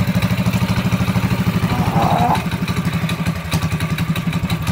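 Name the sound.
212cc mini bike engine running after choke off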